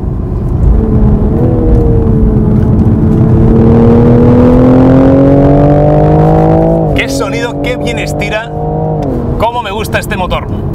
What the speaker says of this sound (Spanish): simplemente tengo que activar de nuevo el modo Sport y ya tengo otra vez ese sonido que realmente me encanta, de ese 6 cilindros en línea